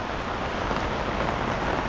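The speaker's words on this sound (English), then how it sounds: "with this rain continuing, there's no sign in slowing down" Heavy rain from Cyclone Jasper near flooded cane fields and a bridge, a dense, loud, continuous downpour hissing evenly across the whole stretch with no break.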